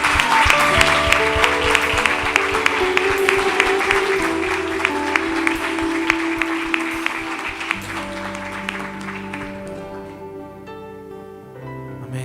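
A church congregation at an evening worship service gives a long, loud burst of applause, dense clapping that fills the room before thinning out and fading near the end.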